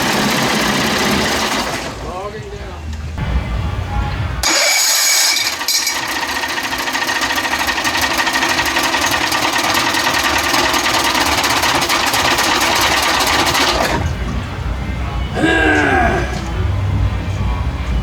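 A 30 hp Evinrude outboard motor runs loud and close with a steady, rough mechanical drone, briefly dipping around a restart before roaring on for most of the stretch; voices speak intermittently over it.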